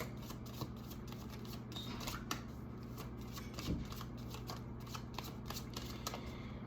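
Tarot cards being shuffled by hand during a reading: a steady, quiet riffling and flicking of cards with repeated soft slaps, close up, with no voice over it.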